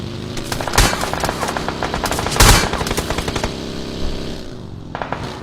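Rapid automatic gunfire rattles in PUBG Mobile, dense bursts of shots with a couple of louder, heavier blasts, close and loud with almost no talk.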